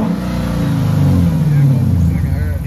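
A Ford Mustang engine revs at a Cars and Coffee meet, a loud, close, droning rev that swells and then eases off within a few seconds.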